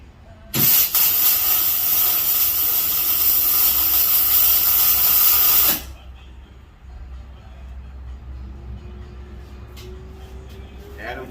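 Gas rushes out in a loud, steady hiss for about five seconds right after being turned on at a stainless steel grill, then cuts off abruptly, leaving a low hum and faint background noise.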